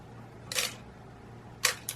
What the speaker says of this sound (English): Shutter's opening correctly.